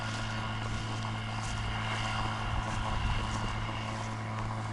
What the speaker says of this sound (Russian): Древний мотор.